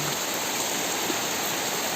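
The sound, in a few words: heavy rain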